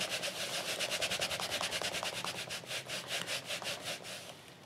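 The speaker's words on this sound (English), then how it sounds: "So I'm going to scrub it." A surface is scrubbed clean with fast, even back-and-forth strokes. The rhythmic rasping is close and steady, with no voices.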